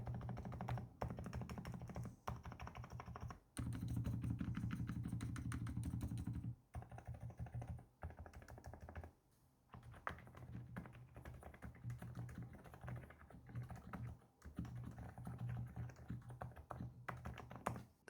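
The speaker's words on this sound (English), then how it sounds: "the blush max switches. These switches are completely different. They are silent linear switches." Steady muffled typing on a NuPhy Halo65 keyboard fitted with Blush Max silent linear switches, a continuous soft patter of dampened keystrokes with occasional brief pauses, close and quiet, with no talking.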